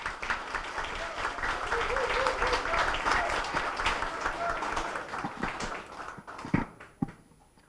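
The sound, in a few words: audience applause welcoming a candidate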